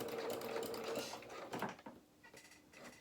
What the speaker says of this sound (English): And we're going to take it nice and steady because these seams are tiny. And we're just going to keep sewing down.